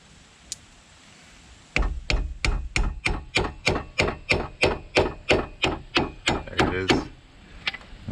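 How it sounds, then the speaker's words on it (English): A thin flathead screwdriver works behind the front wheel hub cap of a 2002-2006 Cadillac Escalade, making about sixteen sharp, evenly spaced metallic knocks at a quick steady rhythm, close and fairly loud, with quiet surroundings. "I'm just using a real thin flathead screwdriver to try to get behind there."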